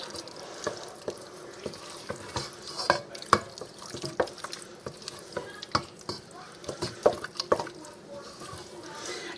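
A spoon stirs a stroganoff mixture in a pan, giving irregular scraping clicks and soft wet knocks at close range against a low background.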